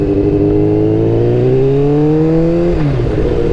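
The carbureted engine of a 1997 Kawasaki Ninja ZX-7R with a full 4-into-1 exhaust revs loudly and steadily, its pitch climbing smoothly for about three seconds before dropping off sharply, with no talking.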